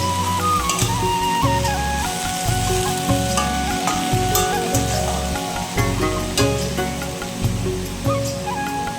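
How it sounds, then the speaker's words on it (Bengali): Greens fry in a kadai with onion and green chili, salt and turmeric, giving a continuous close sizzle with a steady low rhythmic hum running underneath and occasional light clicks of stirring. "একটুখানি কড়াইতে পেঁয়াজ আর কাঁচা লঙ্কা দিয়ে ভেজে নিয়ে শাকটাকে নুন হলুদ দিয়ে একটু ঢেকে ঢেকে নিয়ে শাকটা ভাজি করব।"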